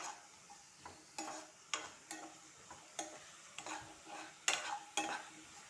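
Ingredients for paneer butter masala being sautéed in a pan, with a spoon scraping and stirring in repeated strokes over a faint, low sizzle, close and fairly quiet, with no talking.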